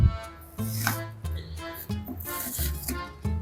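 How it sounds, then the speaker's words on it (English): Chef knife taking very fine slices through an onion on a cutting board, a run of crisp rhythmic chopping taps, about six or seven cuts close up, no talk. "So I'm trying to take very fine slices through the onion to test sharpness"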